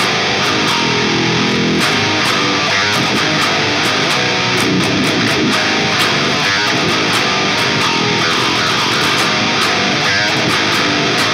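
The intro riff of a metal song plays on electric guitar, loud, distorted and continuous for about eleven seconds with no voices.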